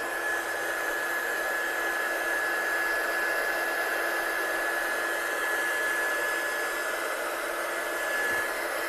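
A heat tool blows steadily for the whole stretch, a loud continuous whooshing hiss with a high whine as it dries ink during a papercraft demonstration, close and unbroken, with no talking.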